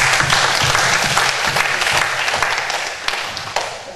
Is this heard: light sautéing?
no